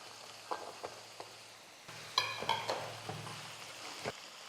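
Onions, green chilies and garlic sauté in a pan for tomato and lemon rice premix, giving a soft, steady sizzle with a few clinks and stirring scrapes, faint and close, with no talk.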